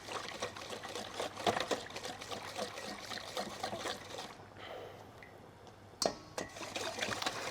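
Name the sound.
whisking rice flour and water batter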